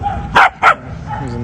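A dog in a Mexico City park gives two sharp, close barks in quick succession, with faint background ambience around them.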